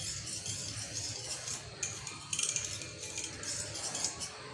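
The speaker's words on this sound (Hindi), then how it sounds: "यहाँ पे अम्मी जो है इसके अंदर बैटर चला रही हैं" A spoon scrapes and clinks against a pot while custard batter is stirred, quiet intermittent metallic scraping strokes at close range.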